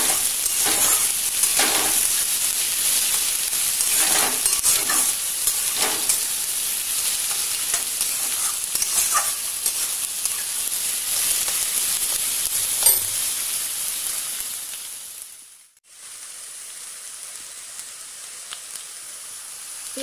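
Onions frying in a pan for dum aloo, a loud steady sizzle broken by repeated scraping stirs, then suddenly cutting off near the end.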